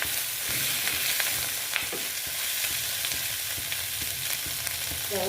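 Fish fat curry with turmeric fries in a pan, giving a dense, even sizzle throughout with faint stirring clicks, close and steady with no speech.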